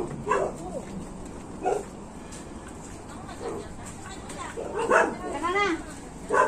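A few short dog barks and yips pop up at intervals against a noisy background, with people talking nearby.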